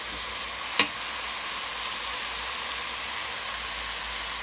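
Meat stewing in a pan for a potato-and-meat dinner gives a steady, close sizzle and hiss throughout, with one brief clatter early on.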